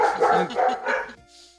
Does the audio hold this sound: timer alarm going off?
no